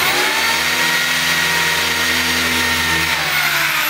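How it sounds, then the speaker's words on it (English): A power drill boring into a wooden sill plate during a tiny house build on a trailer, whining steadily and loudly at close range for several seconds with a slight shift in pitch near the end, no talking. "Put the drill in."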